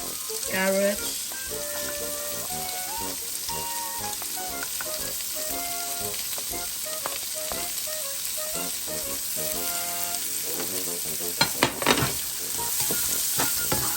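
Luncheon meat, chicken and carrots sizzle loudly in a hot pan for egg fried rice, a steady close frying hiss with occasional scraping stirs and faint background music.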